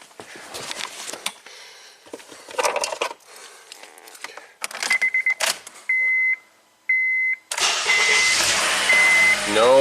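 A 2009 Honda Accord with a newly replaced starter sits while doors and handling clunk nearby, chimes beep twice, then the engine cranks and catches into a loud, close, steady idle.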